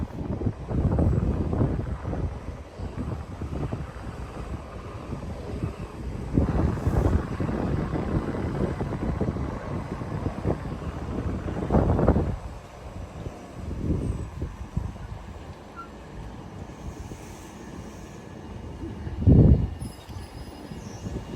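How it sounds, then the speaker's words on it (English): A 12-car Southern Class 377 Electrostar electric train rolls into Hove station with a continuous low rumble and hiss, some wind buffeting the microphone, and a louder swell near the end as it draws alongside. "So here comes our train into the station, a 12-car service"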